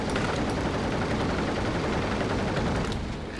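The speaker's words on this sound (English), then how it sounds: "Oh, he just blew up in midair." An aircraft blows up in midair in a flight combat video game, a loud dense burst of crackling explosion and gunfire noise that fills the clip before easing slightly at the end.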